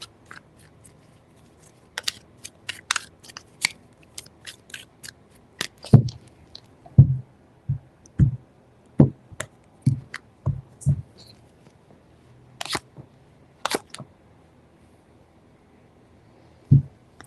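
Tarot cards shuffled by hand in three bursts, a series of soft, crisp riffles and taps close up, with quiet pauses between them and no talking.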